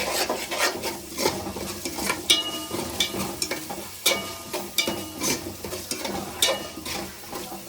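Ginger and masala fry with chicken in a pan: a close, loud sizzle broken by repeated sharp scrapes and clinks of a spoon stirring against the metal, with no one speaking.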